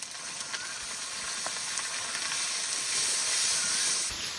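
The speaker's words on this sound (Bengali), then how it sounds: "এবার মশলাটা একটু কষিয়ে নেব" Ground ginger and cumin paste with dry chili paste and a splash of water frying in a pan for a village-style fish curry, a steady close hiss and sizzle with faint scrapes, alone.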